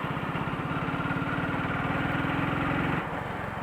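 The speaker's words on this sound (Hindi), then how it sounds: "बहुत ठक ठक करती है बाइक" Motorcycle engine labouring in too high a gear on a rough road, a rapid chugging knock pulsing steadily and loudly for about three seconds before the rhythm eases and drops off.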